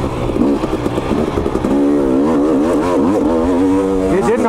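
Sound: KTM 250 XC dirt bike engine running and revving

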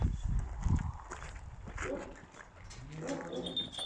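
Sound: dog barking and whimpering

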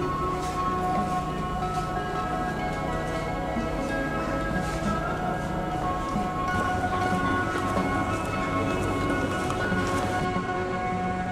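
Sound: train

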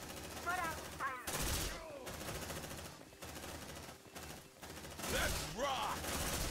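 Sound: gunfire in video game Aliens Dark Descent

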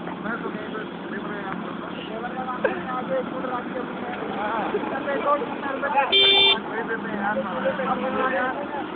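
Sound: traffic jam with car horns honking

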